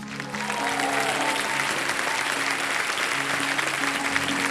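A studio audience on a televised quiz show claps steadily to welcome two invited guests, a dense, even wash of applause with faint voices underneath, sustained for several seconds.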